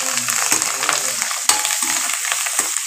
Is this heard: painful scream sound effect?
no